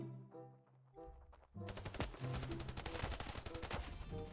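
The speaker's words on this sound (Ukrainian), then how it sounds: "Оце кулемет." Rapid automatic gunfire from a machine gun in the mobile shooter Standoff 2, starting after quieter game sounds and then running as dense, loud repeated bursts to the end.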